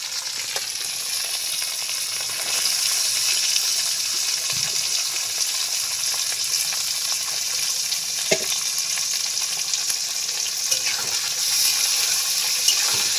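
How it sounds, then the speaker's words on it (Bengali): Potatoes, beans and carrots sizzle steadily in a pan, a continuous bright frying hiss with occasional clinks and stirring scrapes, close and even throughout. "আরও 4-5 মিনিট সময় নিয়ে আলু, বিনস, গাজর আমি ভেজে নেব।"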